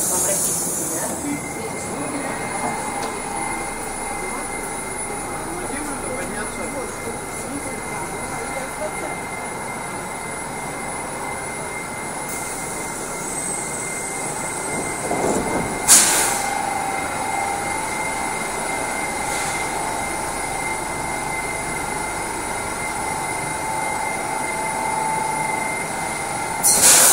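A Moscow metro train running through an underground tunnel on the Big Circle Line, with a steady loud rumble, a high wheel whine and sharp squeals, and a faint voice heard at moments.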